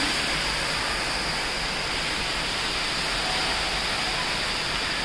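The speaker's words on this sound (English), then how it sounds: "this is the waterfall walkway. Here's the upper view of the waterfall." Steady broadband rushing of an indoor waterfall in a biodome, a constant roar filling the space with no breaks, close and fairly loud.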